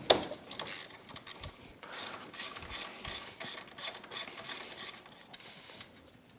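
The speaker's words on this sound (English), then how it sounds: "And now we can remove the castle nut." A ratchet backs a castle nut off a Yamaha YXZ1000 tie rod end, giving quick bursts of clicking pawl ticks in an irregular rhythm, close but fairly quiet, with no speech.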